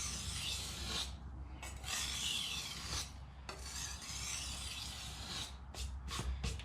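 Kitchen knife drawn across a Sharpal dual grit diamond sharpening stone, close rhythmic rasping strokes in repeated passes with brief pauses between them.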